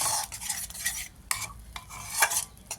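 Sesame and aubergine curry sautéing in a pan with turmeric, with busy stirring and scraping strokes over a light sizzle, close and fairly loud, no voices.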